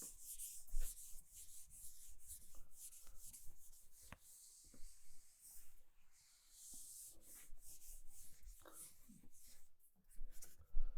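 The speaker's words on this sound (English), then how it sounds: "So let me erase this." A board being erased, with close, uneven scrubbing and rubbing strokes that come in irregular bursts, faint and without talk.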